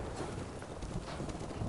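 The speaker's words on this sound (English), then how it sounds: "I think the guy's come on his horse." Horse hooves clip-clopping in Ghost of Tsushima as a rider approaches, a steady rapid patter of hoofbeats over a dense game soundscape with wind and ambient noise.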